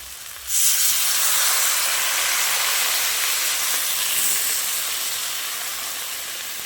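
Water hits a hot pan of fried mixed vegetables with fish head and bursts into a loud, steady hissing sizzle that starts abruptly, then slowly fades while staying close and continuous.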